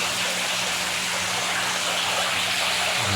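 Water gushes steadily while a DIY backyard fish pond filter is rinsed, a dense, close, continuous splashing flow that holds at even loudness throughout without any talking.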